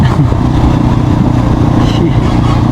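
A motorcycle engine drones steadily at close range on a desert ride near Peshawar, Pakistan, a constant low rumble with wind noise and faint speech mixed in.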